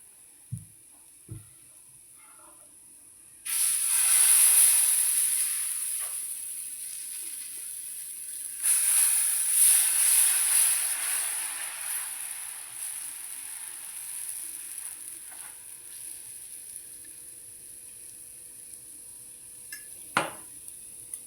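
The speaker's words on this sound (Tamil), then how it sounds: "அப்படியே ஒவ்வொன்றா அடை ஊற்றி முருகலாய் எடுத்துடலாம்" Adai dosa batter hits a hot stone griddle with a loud hissing sizzle that fades slowly, then a second pour brings another burst of sizzling. A few faint clinks of utensils are heard, with no talk.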